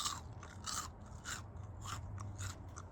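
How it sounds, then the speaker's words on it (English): Candied pecans with a fresh sugar coating, bitten and chewed up close: a run of sharp, dry crunches at a steady chewing rhythm, roughly twice per second, with no talking. "listen to this crunch"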